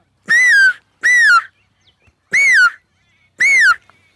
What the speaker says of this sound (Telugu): అక్కడ ఒకటి ఈల వేస్తూ